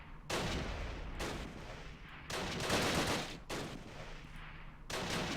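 Heavy gunfire from a machine gun team in the World War II strategy game Close Combat Last Stand Arnhem, loud sustained bursts repeating roughly every second with brief gaps between volleys, no talking over it.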